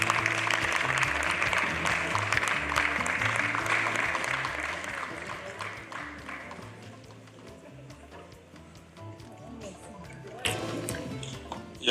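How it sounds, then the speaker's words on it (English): Applause from an audience at a public health event with a state health minister rises and then fades over several seconds, with broadband clatter and a later swell. Voices are faint underneath. "A round of applause for him, please."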